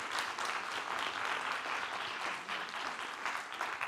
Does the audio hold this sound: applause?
yes